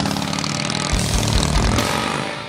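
A 2008 Harley-Davidson Softail Deluxe engine with loud aftermarket pipes rumbles loudly with a deep, throbbing exhaust note, steady and close, no voices.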